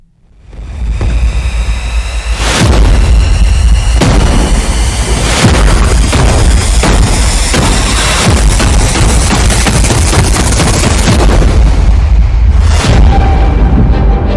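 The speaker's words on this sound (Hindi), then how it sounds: "इजराइल की राजधानी तेल अवीव में फटा बम" A bomb blast in Tel Aviv as heard in news footage: loud, sustained booming rumble with repeated sharp bursts and crackling debris noise, dense and distorted throughout, no voices.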